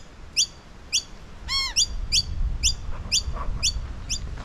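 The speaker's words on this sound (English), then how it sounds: "Little family of birds up there" A small family of birds chirps outdoors at a lakeside caravan park, a regular series of sharp bright tweets about every half second with one longer trilling call, over low rumbling background noise.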